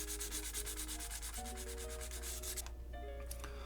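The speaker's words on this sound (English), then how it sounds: "So I'm going to go ahead and get these sanded off" Painted plastic parts of an AMT Enterprise NCC-1701-C model kit sanded by hand with sandpaper: fast, steady rubbing strokes in an even rhythm over a constant tonal background hum, with no talking.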